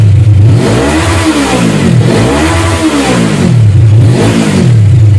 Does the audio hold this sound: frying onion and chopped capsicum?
no